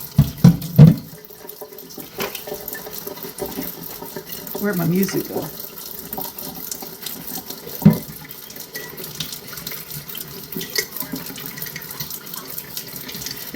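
Tap water pours into a houseplant container, with a louder rush at the start and again around the eight-second mark over a low steady hiss; a voice speaks briefly near the start.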